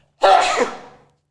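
One abrupt, forceful sneeze up close, starting with a sharp burst and fading away quickly into silence.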